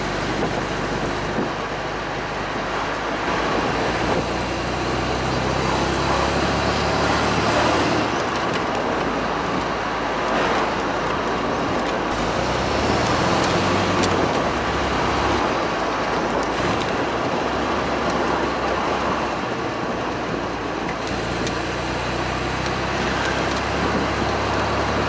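Small open classic car driving on a local road, a steady broadband roar of engine, tyres and wind buffeting running continuously throughout at close range, with no talk.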